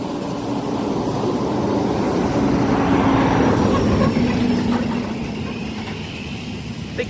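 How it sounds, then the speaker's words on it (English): A large truck rumbles past on a road in the Philippines, a loud, broad low roar that swells to a peak mid-pass and fades slightly as it moves on, with steady traffic noise around it. "Big truck just went by."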